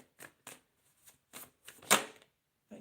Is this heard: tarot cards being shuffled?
yes